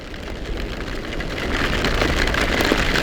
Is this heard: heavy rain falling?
yes